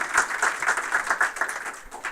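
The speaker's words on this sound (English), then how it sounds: "Can we give one more round of applause to all the teams that just pitched?" An audience applauds the teams that just pitched, even rhythmic clapping from a modest crowd that holds steady before fading slightly at the end, with no voices on top.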